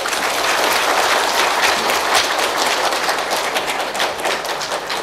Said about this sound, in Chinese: 那么就让我们用热烈的掌声欢迎沈志华教授